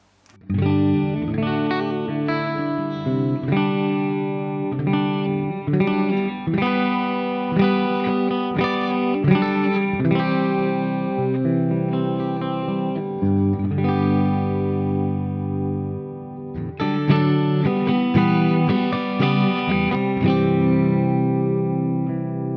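Electric guitar through a Mesa Boogie Mark IIC+ amp simulation plugin plays sustained chords and notes with a shimmering chorus effect and reverb, steady and fairly loud, with no talking.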